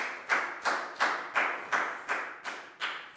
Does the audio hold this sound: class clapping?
yes